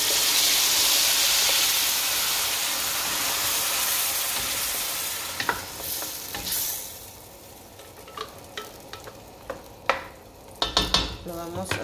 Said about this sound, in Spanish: Ya que está sofrita la carne de puerco, le vamos a poner la salsita. Que se escuche el sonido